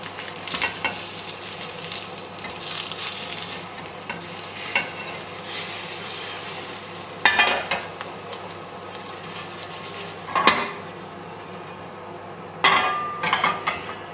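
Egg frying in a hot cheap nonstick pan from Temu, a steady close sizzle throughout with a few louder crackling bursts and light clinks of a utensil against the pan.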